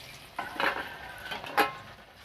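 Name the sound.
cauliflower pakoras frying in hot oil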